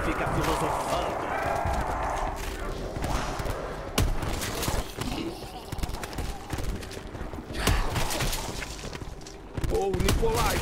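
Gunfire from the zombies mode of Call of Duty: Black Ops, bursts of sharp shots and impacts scattered through game audio, with character voices speaking over the action.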